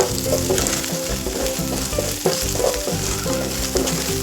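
Spices being stirred into a hot pan of paneer tikka masala, a loud continuous sizzle and crackle of frying close up, with no voices over it.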